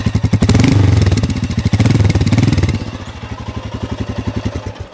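Royal Enfield Scram 411 motorcycle with a 411cc single-cylinder engine, a loud, close throaty exhaust burble that revs briefly then settles into a steady, rhythmic thumping idle.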